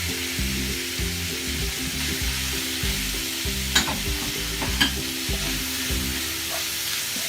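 Ground beef sautéing in a pan, a continuous sizzle broken by a rhythmic scraping stir, repeated strokes close to the pan with a couple of sharper knocks.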